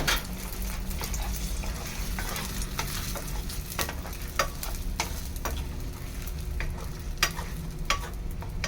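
Egg frying in a pan for fried rice: steady close sizzling with scraping stirs and clicks of a utensil, moderate and continuous, no talk.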